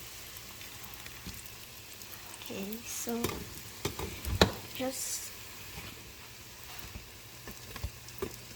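Puff-puff dough frying in oil in a small frying bowl gives a steady low sizzle, with scattered clatters and pops as the pieces are turned, under brief speech.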